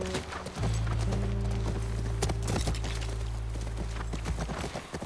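Horse hooves clip-clop in a steady walking rhythm at a ranch in The Last of Us Part 1, close and clear over a low sustained hum of game ambience.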